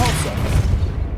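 A Depulso spell cast in the Hogwarts Legacy video game, a dense booming burst at close range that rumbles for about a second and then fades.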